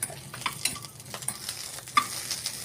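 Green chillies, cumin and garlic frying in a little oil over a low flame, giving a steady close sizzle broken by scraping stirs and small spatters, with no voices.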